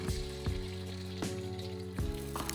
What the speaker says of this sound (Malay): goreng telur satu persatu sehingga masak